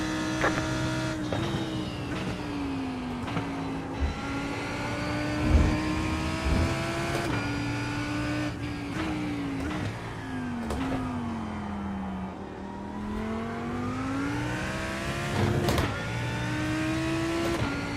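A GT3 race car engine in the iRacing sim revs steadily with a loud, continuous tone, pitch dipping and rising through gear changes, with sharp crackling backfires on several shifts.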